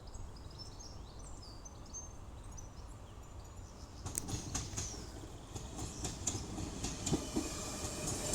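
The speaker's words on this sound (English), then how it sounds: "the next train to be coming through will be a Transpennine Express Class 802 running from Hull" A TransPennine Express Class 802 train running from Hull to Manchester Piccadilly passes through Guide Bridge station, a steady rumble swelling midway as wheels clatter over rail joints, with birds chirping faintly in the background and no talk.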